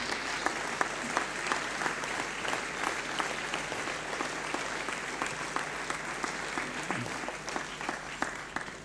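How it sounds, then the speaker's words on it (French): Sustained audience applause after round-table speakers at a 2013 conference, a dense steady clapping that fills the hall evenly from start to finish with a faint murmur underneath. "Je vous prie d'applaudir nos oratrices et nos orateurs."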